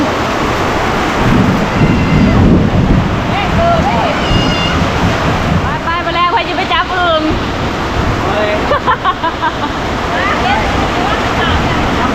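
Rain and rumbling thunder during an outdoor storm, heavy wind buffeting the microphone in loud, roaring gusts. People talk over the noise.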